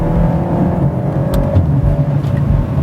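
A 2010 BMW X6 M sports SUV engine drones steadily and loud throughout while accelerating, a smooth continuous roar with a brief rise partway through.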